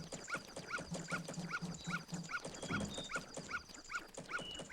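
A dog in Majora's Mask on the Nintendo 64 barks and yips in quick repeated bursts, faint and game-synthesized, over a rhythmic tune of the game's soundtrack.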